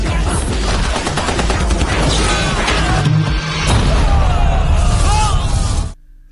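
Blind, sustained gunfire in an action film scene, loud dense bursts of shots and blasts mixed with music and effects, cutting off abruptly near the end.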